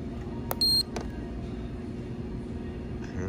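Beeps from a Dollar General checkout register keypad as a phone number is typed in, a few short electronic tones early on over steady store background noise.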